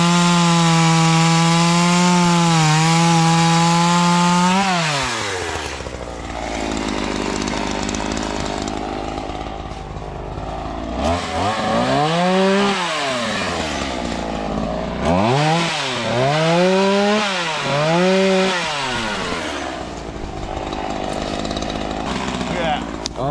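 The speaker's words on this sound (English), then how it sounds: "so I can cut these off with the chainsaw, not hit dirt" Chainsaw cutting wood while clearing raw land, the engine bogging into cuts and revving back up in repeated swells, loud and close, with a voice talking between cuts.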